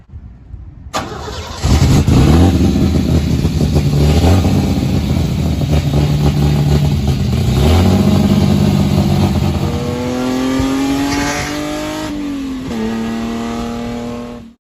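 A 2.5-liter Alfa Romeo Milano V6 car engine starts and revs repeatedly, climbing and falling in pitch, then settles into a steady rumble close by.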